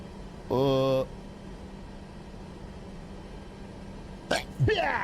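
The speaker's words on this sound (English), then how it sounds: "I just sneezed on the plane." A short, sharp sneeze bursts out near the end over a steady aircraft cabin hum in a flight simulator game; an earlier brief tonal sound stands apart from it.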